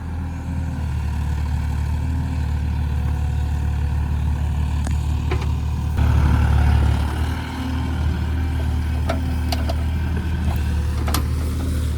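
A Kubota excavator's three-cylinder engine runs steadily nearby, a low, throbbing drone that holds constant, rising slightly mid-clip, with a few faint clicks and knocks over the top.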